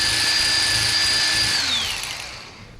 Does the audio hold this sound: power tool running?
yes